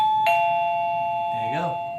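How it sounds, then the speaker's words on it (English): A Vic Tsing wireless doorbell chimes once, loud and close, ringing with a sustained bright tone that decays slowly. "Now let's try the doorbell."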